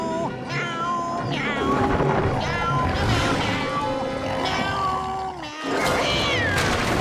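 Gary the snail from the SpongeBob cartoon sings a string of melodic meows over busy cartoon music, several rising and falling cries running continuously near and loud.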